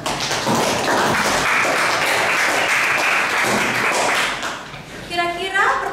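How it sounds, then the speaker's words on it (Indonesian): Students in a classroom give a group dense, lively applause that fills most of the moment, then taper off as a voice begins speaking near the end. "beri tepuk tangan untuk kelompok 5"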